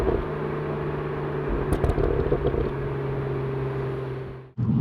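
2021 Mercedes A45 S AMG hatchback driving, a steady engine drone with a constant low hum heard from inside, a brief rattle midway, then cut off abruptly near the end.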